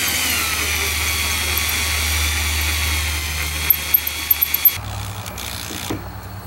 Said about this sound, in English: your drill bit will probably grab as it tries to break through